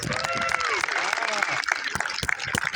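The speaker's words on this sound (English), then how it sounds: "if we could get a round of applause" Applause from a crowd at a high school Veterans Day parade honoring a World War II veteran, scattered outdoor clapping under ongoing voices and cheers, with sharp individual claps standing out.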